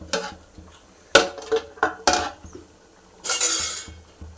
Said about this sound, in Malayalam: ഒന്ന് ഇളക്കി കൊടുക്കാം നമ്മുടെ കറി ഇവിടെ റെഡി ആയിട്ടുണ്ട്